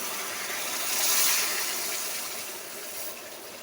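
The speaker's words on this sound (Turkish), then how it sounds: "Bir çömçe suyundan alıp yağımın üzerine ilave ediyorum." A ladle of cooking water poured onto hot oil in a pot hisses in a steady, bright sizzle that swells for a moment, then settles into a softer continuous fizz.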